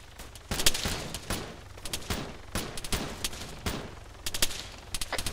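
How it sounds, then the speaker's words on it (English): Heavy gunfire in Arma 3, with rapid bursts and single shots cracking out in uneven clusters, some close and loud, others more distant, with no talk over them. "Sounds like heavy fire."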